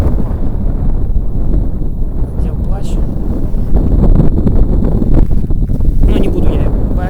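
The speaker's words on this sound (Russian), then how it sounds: "Ветер." Strong wind gusts across the frozen Volga during winter ice fishing, buffeting the microphone in a loud, continuous rumble with brief scraping and rustling noises on top.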